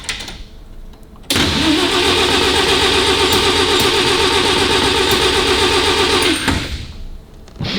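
Car engine cranks steadily on choke for about five seconds without catching, a loud continuous whirring churn that stops abruptly, with quieter rustling before and after.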